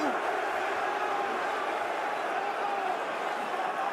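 A loud arena crowd at a UFC fight between Sean Strickland and Khamzat Chimaev roars as a dense, steady wall of cheering and shouting, with no break in the noise.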